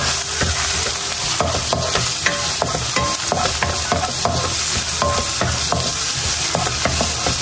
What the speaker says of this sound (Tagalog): Magigisa na po muna ako ng mga ricado.